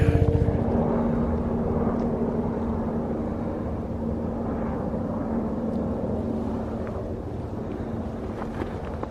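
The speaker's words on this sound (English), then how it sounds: "You hear the choppers." Helicopters passing over a hiking trail near Valmeyer, Illinois, give a steady, fairly loud droning rumble that fills the whole stretch, blended with wind buffeting the microphone and no voices.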